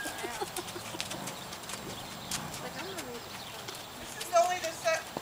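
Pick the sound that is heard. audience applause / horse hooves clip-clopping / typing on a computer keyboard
horse hooves clip-clopping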